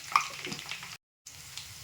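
Curry leaves and crushed garlic sizzle in hot oil, a soft steady crackling hiss broken by a brief silent gap midway before it resumes.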